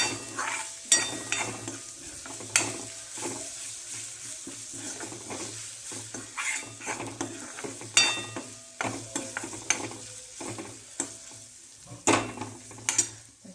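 A spoon repeatedly stirs and scrapes yogurt kadhi in a hot pan, with a steady rhythmic clatter and scrape over a low continuous sizzle, close and fairly loud.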